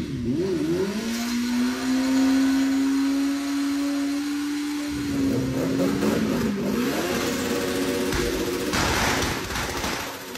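A Honda CBR 1000 motorcycle engine starts and settles into a steady, droning idle, then revs up with a rising whine before dropping back. It is close and loud, with no talking.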